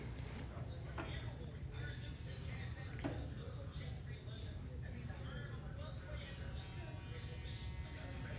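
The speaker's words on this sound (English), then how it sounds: "here we are with the Babyliss Pro Foil Shaver" A Babyliss Pro foil shaver buzzes in a steady, unbroken drone that stays loud and close from start to end, with a few faint clicks and handling noises on top.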